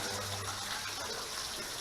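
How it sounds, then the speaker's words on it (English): Steady rushing water flows through a tunnel, filling the clip with a continuous broadband gush with a slightly hollow, enclosed quality and no voices. "all this water flowing out of here"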